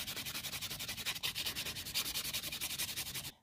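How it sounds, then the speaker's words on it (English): A nail buffer rubs back and forth over a filed acrylic nail in quick, even strokes, a rhythmic close scratching rasp with no voices. "I'm just going to go in with my buffer so I could take some of these, like, little scratches off"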